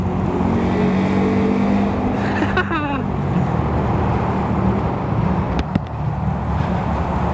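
A Honda Grom motorcycle engine drones steadily while riding, a loud continuous low hum mixed with strong wind rush, with a brief rising whine partway through.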